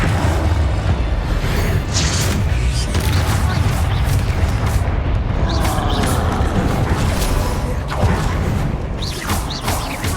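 A Bombarda spell explosion goes off in Hogwarts Legacy amid loud, continuous battle noise of booms, crashes and whooshes, with no quiet gaps.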